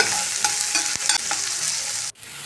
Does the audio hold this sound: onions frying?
yes